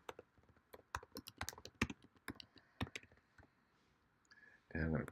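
Close, quiet keystrokes come in quick irregular bursts as someone types on a computer keyboard, followed by a brief burst of speech at the end.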